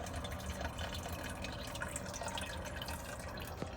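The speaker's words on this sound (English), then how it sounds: "I just strain off all the good stuff that we boiled up, and then we'll just have broth for the soup" Broth strained off from boiled matzo ball soup stock pours and trickles steadily, a continuous close splashing flow of liquid with light drips, moderately quiet and without talk.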